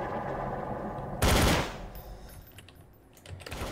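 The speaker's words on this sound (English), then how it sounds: "Hyper just shot at me." A short, loud burst of gunfire in the game Garry's Mod cuts through a steady background hum, then fades back to quieter noise.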